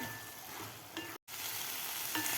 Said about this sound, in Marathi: शेव घातल्यानंतर व्यवस्थित मिक्स करायचं आपल्याला